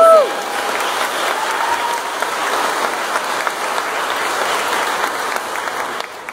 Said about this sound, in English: give a hand of applause for all of the people that worked for that